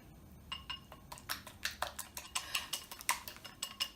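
Seven egg yolks for pastel de nata custard are whisked in a bowl, making quick, rhythmic, faint clinks of a utensil against the bowl with no talk.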